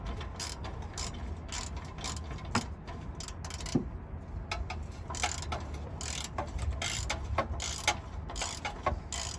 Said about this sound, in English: tighten the other side using a ratchet.